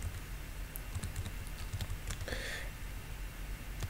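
Code is typed on a computer keyboard in a quiet series of close, irregular key clicks with brief pauses, and a short soft rustle partway through.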